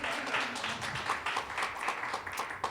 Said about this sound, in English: And also another round of applause for his son, T. Swan, because that was fire.